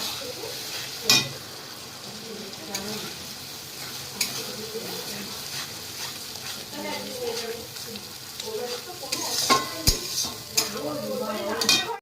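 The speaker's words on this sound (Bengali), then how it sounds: "যে মাংস কষানো স্টার্ট হয়ে গেছে" Meat being stirred and fried in a pot at an outdoor picnic cookout, with steady sizzling and repeated scraping stir strokes, occasional clinks of a utensil against the pot, and faint voices in the background.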